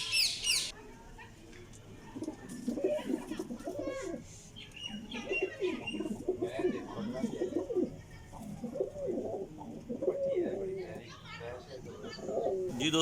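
Pigeons with white, black and light eyes cooing in a loft, a soft continuous murmur of overlapping low coos with a few chirps, under someone talking nearby.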